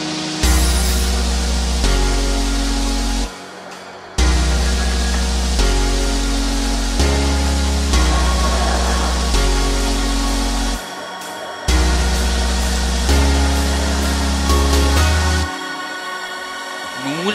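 Steady rumbling interior noise of a Berlin M1 Flexity tram with motor hum, broken by a few short pauses and shifts as the car rides along, no voices.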